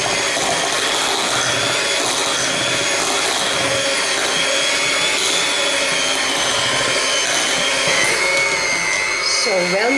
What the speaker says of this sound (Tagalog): i-mix muna natin itong maigi using a hand mixer or a wire whisk